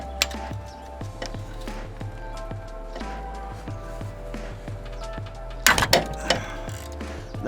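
Mechanical ratcheting and metallic clicks while removing AC compressor bolts on a 2002-2006 Honda CR-V, a steady repetitive rattle with a few sharper clanks partway through.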